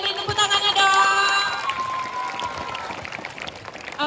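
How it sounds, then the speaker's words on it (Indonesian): Junior high school students clap together during a classroom talk on bullying, with scattered applause running under voices for a few seconds before thinning out. "beri tepuk tangannya dong."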